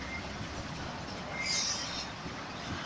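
A train hauled by two DL-class diesel locomotives departs Wellington for Auckland, giving a steady, moderately distant rumble of rolling stock with a faint high wheel squeal swelling briefly midway.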